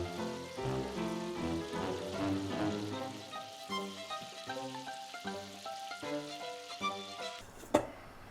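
Eggplant deep frying in hot oil gives a steady soft sizzle and crackle running beneath a melodic music track, with a brief clatter near the end.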